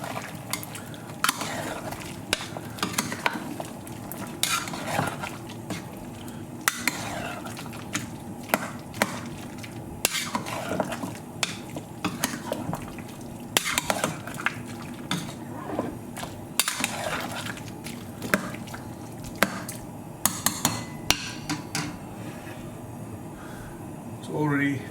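Lamb rogan josh with red chili powder tossed and stirred in a pan, with repeated clattering scrapes and knocks of utensil on metal in an irregular rhythm over a low cooking hiss, while a person talks.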